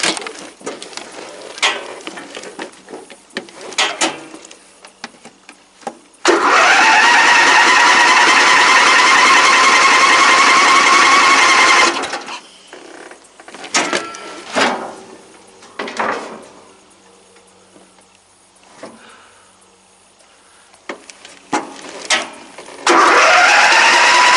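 Lifted green Craftsman riding mower engine cranking and catching, a loud steady roar for several seconds, then scattered clunks and rattles and another loud engine burst near the end, no talking.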